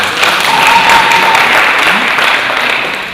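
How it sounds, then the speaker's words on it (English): An audience at an international academic symposium claps in a dense burst of applause filling the hall, loud and steady before tapering slightly at the end, with a voice faintly under it. "Another round of applause to him."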